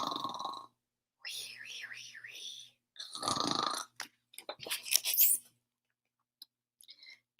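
A voice imitates snoring for a sleeping mummy in a children's story, giving several drawn-out breathy snorts and wheezes separated by pauses, then softer puffs and small sounds near the end.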